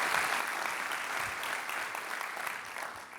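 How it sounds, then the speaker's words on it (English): Dense, steady applause from a large crowd fills the room at a civic business event in Long Beach honoring a Business Journal team, a continuous wash of clapping with no voices over it. "giving Samantha and the team at the Business Journal a big round of applause"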